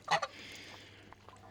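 Fowl gathered around a muddy tractor bird bath give a short burst of two or three honking calls close by, then fall quiet over faint background noise.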